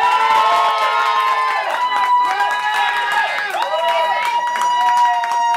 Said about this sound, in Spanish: Aplausos para la señorita Cuarto Oscuro.